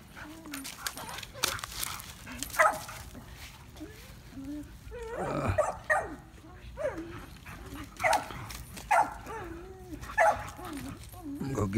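Kennel dogs whimper, yip and bark in short bursts and whines, close by, with a person talking over them now and then.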